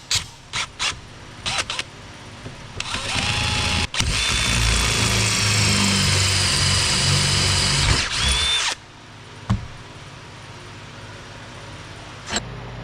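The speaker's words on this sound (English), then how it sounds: "you can see I've got the holes all drilled out here" A power drill bores quarter-inch holes during work on a Bobcat T770, with short bursts of whirring and then one long sustained drilling run, trailing off into clicks and knocks.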